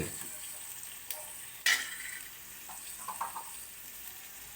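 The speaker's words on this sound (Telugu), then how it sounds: "ఉల్లిగడ్డలు వేయాలన్నమాట మళ్ళీ నూనెలో మంచిగా వేగాలి" Onions fried in oil for tomato rice made from leftover rice, a soft steady sizzle with a sharp clatter of stirring near the middle and a few light ticks, close and fairly quiet.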